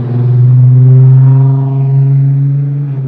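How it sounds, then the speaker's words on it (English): Naturally aspirated VR6 engine in a Mk4 Volkswagen revving up loud and close, a strong growling drone that rises, holds, then eases back down with no turbo or supercharger whine. "I just like the sound of just NA VR6"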